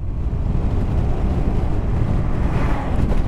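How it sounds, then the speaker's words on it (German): Steady wind buffets the microphone during a motorcycle ride, a loud, continuous low roar with engine and road noise mixed in, no voices. "Boah, windig ey."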